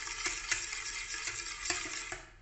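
Cake batter being mixed by hand in a bowl for a bread cake, heard as a series of soft, fairly regular stirring and scraping strokes, close up and with no talk.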